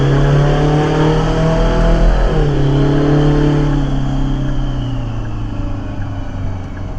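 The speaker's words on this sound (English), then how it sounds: "you get sounds of the engine, the gear train, the blower, the turbo, and all together" A Detroit 4-53T turbocharged two-stroke diesel runs loud and close, its blower whine, turbo and gear train blending into a steady drone that dips slightly in pitch partway through.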